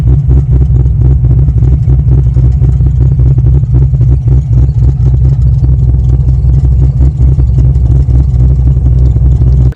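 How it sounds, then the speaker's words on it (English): Corvette C6 Z06 drivetrain with twin disc clutch and light flywheel, running with a steady loud low engine drone and a fine metallic clatter from a suspected bearing fault, continuous and close, no talk. "there's some weird bearing noise"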